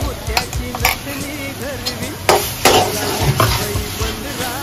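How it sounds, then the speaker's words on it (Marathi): Ground masala paste sizzles and spits in a hot pan for a village-style crab (chimbori) curry, with steady close frying crackle and occasional scraping stirs throughout. "वाटणं त्याला थोडं फ्राय करून घेते"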